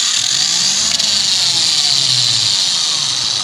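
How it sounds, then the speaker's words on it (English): An Einhell cordless angle grinder with a flap disc, clamped in place, runs at a steady high whine, loud and close and continuous throughout. "It's their cordless angled grinder."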